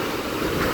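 Big ocean waves crashing and surging at the shore by El Peñón in Puerto de la Cruz, Tenerife, a loud, dense wash of surf with some wind buffeting the microphone.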